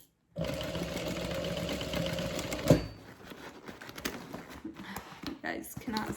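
A sewing machine runs in a steady continuous whir while back stitching the seams of a fabric handbag, stopping with a clunk midway, followed by quieter handling noises and faint talk.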